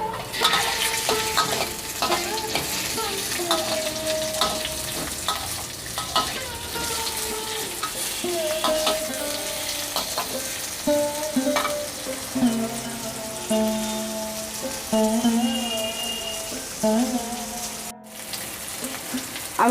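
Boiled potatoes, tomatoes and a bay leaf fry in a pan with a constant close sizzle, with irregular stirring clatters and scrapes throughout.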